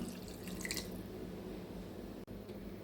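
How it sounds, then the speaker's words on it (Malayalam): Squeezed tamarind water drips and squishes into a pot of ginger curry, faint close-up wet dripping sounds over a quiet background. "അത് പിഴിഞ്ഞ് ആ പുളിവെള്ളമോടെ ചേർത്ത് കൊടുക്കുകയാണ്"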